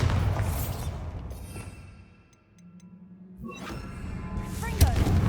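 Bombarda blasting spell cast in the game Hogwarts Legacy, a muffled booming burst with a whooshing rush that fades into a quiet lull before another rumbling impact builds, set under ongoing game ambience and some voice.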